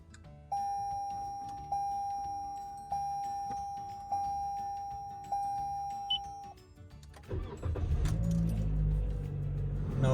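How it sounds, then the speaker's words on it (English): A Toyota Corolla's cabin AC blower fan starts at low speed, a soft steady whoosh and low hum rising near the end, after a run of evenly spaced dashboard chime beeps. "Now the blower is on speed number 1, speed number 2."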